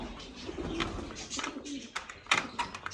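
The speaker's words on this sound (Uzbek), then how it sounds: "Buning ichida xil kaptarlar bor." Pigeons kept for sale in Andijan coo in short soft bursts close by, mixed with scattered chirps and light rustling, with no voices.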